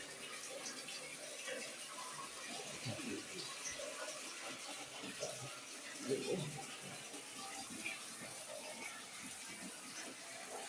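Tap water runs steadily into a pot meant for a heater, a faint continuous hiss and splash with a few louder knocks and clatters mixed in.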